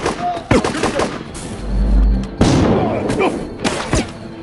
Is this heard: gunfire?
yes